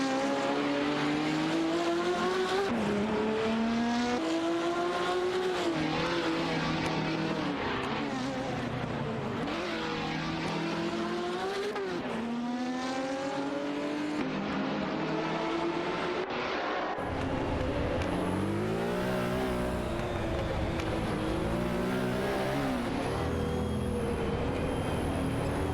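Race cars including a Porsche 917-20 and Ferrari 512s in an AI racing game, engines droning and rising and falling in pitch as they pass, continuous and layered throughout.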